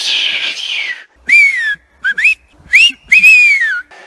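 A person whistles on a mountain hiking trail in the Shirakami range, several short rising and falling tones in separate bursts with brief gaps, clear and close.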